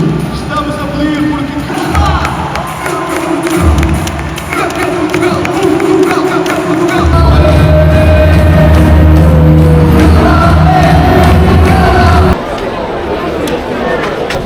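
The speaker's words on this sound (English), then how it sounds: "we got to hear this kid absolutely lose his voice cheering for Ronaldo." A large stadium crowd at a Portugal Euro 2024 qualifier roars and cheers continuously, loud and close, with a voice yelling in the mix.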